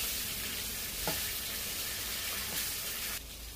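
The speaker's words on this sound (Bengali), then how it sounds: "তো একবারে পটলগুলো ভাজা হয়ে আসছে" Pieces of pointed gourd (potol) sizzle in hot oil in a pan, a continuous crackling fry with a couple of brief stirring clinks, ending in a slight drop in intensity.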